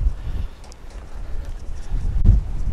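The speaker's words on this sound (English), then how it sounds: "It is extremely windy." Strong wind blows outdoors near Carlsbad Caverns National Park, rumbling low and buffeting the microphone in gusts at the start and again near the end, with no talk.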